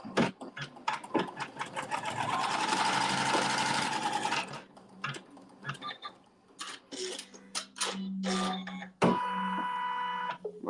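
A sewing machine stitches a fabric seam for a log cabin quilt block, running in fast rhythmic bursts, one longer steady run, then short starts and stops, close and mechanical with no talk over it.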